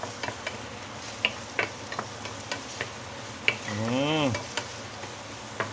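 Minced garlic frying in a pan for garlic roast pork gives a soft, steady sizzle, with scattered clicks of a utensil against the pan and one brief rising whine partway through.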